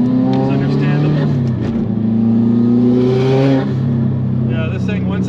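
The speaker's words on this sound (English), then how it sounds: "this thing, once the turbo spools up, it really wants to go" A 2005 Subaru Impreza WRX STi sedan with a turbocharged engine accelerates, its loud, steady engine drone rising slightly in pitch, heard from inside the car as a person talks over it.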